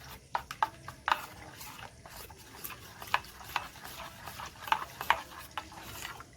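Yogurt stirred with a little water in a bowl by hand, a spoon clicking and scraping in quick irregular strokes, close and fairly quiet, with no talking.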